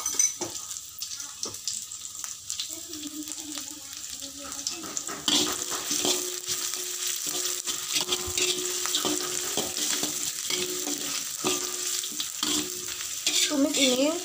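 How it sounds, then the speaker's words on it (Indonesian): Shallots go into hot oil and sauté in a pan, a quiet start giving way to a steady, loud sizzle with occasional stirring scrapes, heard close and without talk. "kalau kalian mau menumis apapun tumisannya, masukkan bawang merah terlebih dahulu"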